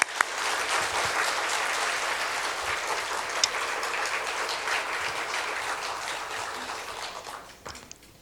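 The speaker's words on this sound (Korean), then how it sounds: "우리 박수로 맞이하겠습니다" A church congregation applauds at a Sunday afternoon worship service, with dense, loud, sustained clapping filling the room before it tapers off near the end.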